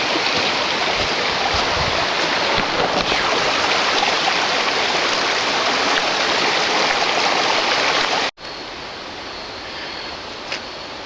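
A waterfall at Big South Fork roars with a steady, loud, broadband rush. The sound cuts out briefly near the end, then continues slightly quieter.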